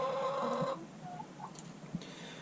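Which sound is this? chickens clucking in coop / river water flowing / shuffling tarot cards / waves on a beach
chickens clucking in coop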